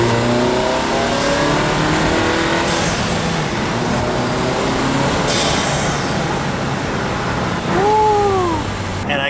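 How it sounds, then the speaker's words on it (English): A turbocharged car with a broken turbo inlet accelerates hard on an empty road, engine roaring loud and close through rising revs, with a brief pitch sweep near the end. "Let's go ahead and do a quick acceleration"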